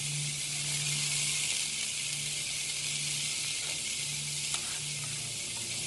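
Butter and orange sizzle steadily on a hot Blackstone griddle during a shrimp cook with an orange honey glaze, a loud, continuous hiss with a few small pops and no talking.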